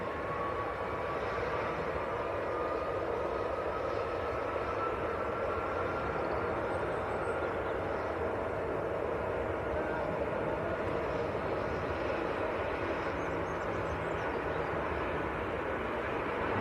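A Jet2 airliner bound for Tenerife at Manchester Airport, its engines producing a steady, broad roar that holds at an even level for the whole stretch, with a faint rising whine underneath.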